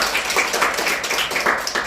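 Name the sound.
clapping hands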